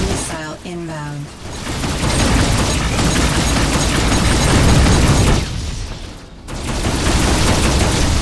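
Missile blasts and weapon fire in the space combat game Rebel Galaxy Outlaw, a loud continuous barrage of booms and bursts with brief lulls, mixed with game voice lines.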